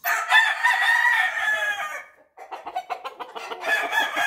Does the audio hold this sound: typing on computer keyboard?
no